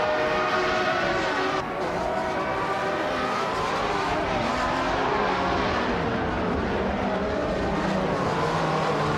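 Several 1995-era Formula 1 race cars in a racing video game run close together, their high-pitched engines droning and layering with shifting pitch, loud and continuous throughout.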